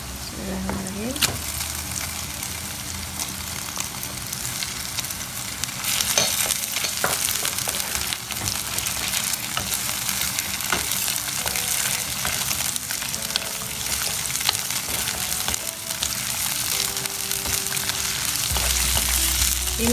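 Small pieces of chicken sizzle in a pan with wilted, fragrant onions, stirred steadily with scraping strokes as the frying hiss grows louder after the meat goes in, under occasional talk.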